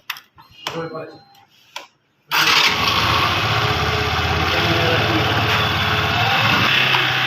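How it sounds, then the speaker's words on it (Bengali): A Yamaha fuel-injected motorcycle engine kicks into life after a few seconds of quiet talking, then idles loudly and steadily close by. "না স্টার্ট দাও বাইকটি"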